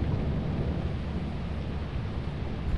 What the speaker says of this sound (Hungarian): csapkod a villám körülötte, úgyhogy nagyon igyekezzetek.